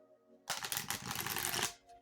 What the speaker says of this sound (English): as I'm shuffling, I'm going to set some intentions for this reading